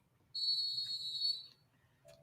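A single long whistle blast, loud and steady for about a second, marks the start of a podcast segment, then cuts off with a brief faint chirp after it.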